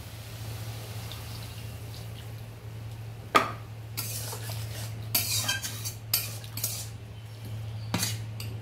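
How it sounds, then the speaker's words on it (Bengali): Green chillies being stirred in a metal pan, with sharp scraping clinks of the utensil arriving in irregular bursts over a steady low electrical hum; no clear pour of water stands out. "দিয়ে দেবো চিরা কাঁচা লঙ্কাগুলো দিয়ে একটু নেড়ে জল দিয়ে দেবো।"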